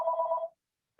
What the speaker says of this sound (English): I apologize for the phone ringing in from behind